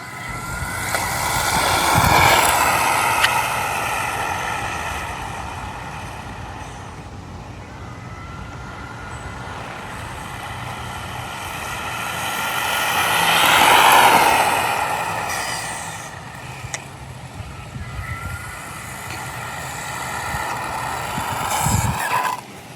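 A Mojave Grom RC car on a speed run: a whining electric motor swells loudly as it passes close by, fades into the distance, then roars past again near the end. No one speaks.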